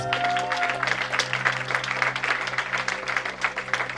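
Audience applause for the prophetess Joël at a church gathering, a steady dense wash of clapping from a crowd filling the room for the whole stretch, with a faint steady hum underneath.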